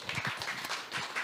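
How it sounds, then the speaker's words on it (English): Audience applause for Matt Monaco at a DAW 2022 event, a steady wash of many hands clapping at moderate volume, continuous through the short stretch with slight swells. "Applause before I even put my finger on a tool"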